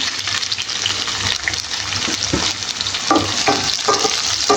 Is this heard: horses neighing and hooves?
no